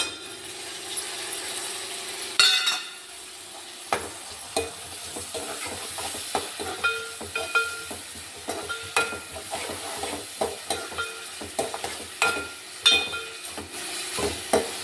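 Sliced onions, tomatoes and salt sizzle in a pan for okra curry while a spoon scrapes and stirs in quick, repeated clicks and knocks over a constant close frying hiss.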